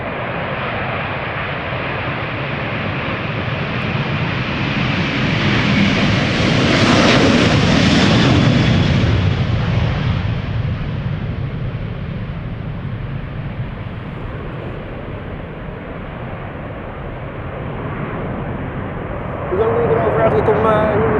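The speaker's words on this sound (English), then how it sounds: "Delta Airlines flight 179 going to Jerry's hometown, Portland, Oregon. A330-300, 9 years old" A nine-year-old Delta Airlines Airbus A330-300 jet roars steadily at an airport, swelling to a loud peak and then easing to a sustained rumble, with another engine surge near the end; people talk over it.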